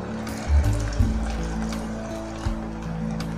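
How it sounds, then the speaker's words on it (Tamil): Water pours into a cooking pot on the stove for a Tamil drumstick-leaf (murungai keerai) kootu, a steady trickling fill with a couple of soft knocks over a low kitchen hum. "இப்போ தண்ணி சேர்த்துக்கோங்க."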